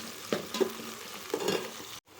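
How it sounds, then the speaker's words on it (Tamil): Onion, tomato and green chili sautéing in a pan, a quiet sizzle broken by a few soft scraping stirs of a spoon, ending in a brief silence. "இப்போ பாருங்கள், ஆனியன், தக்காளி போட்டாச்சு, பச்சை மிளகா போட்டாச்சு. இது எல்லாத்தையும் நல்லா வதக்கிக்குவோம்."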